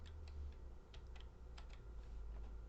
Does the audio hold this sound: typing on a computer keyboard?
yes